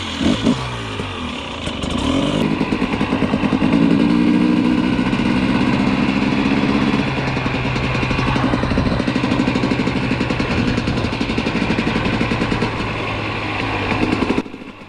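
A 2020 KTM 250 XC TPI two-stroke dirt bike engine idles steadily nearby, a constant buzzing rumble with slight throttle blips near the start and end.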